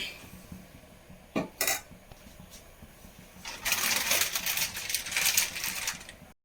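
A pan is set on the stove for tempering a Kerala-style dal curry with coconut oil. A couple of sharp metallic clanks come close by, then a sustained hissing, crackling wash follows.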